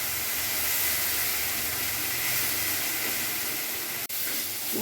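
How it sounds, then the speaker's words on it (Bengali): Onion paste fries in a pan as the base for a dahi potol curry, giving a steady, close, broadband sizzling hiss that continues without a break except for one brief dropout near the end. No one speaks. "এবার আমি ততক্ষণ ভাজবো যতক্ষণ না আমার কাঁচা গন্ধ চলে যায়"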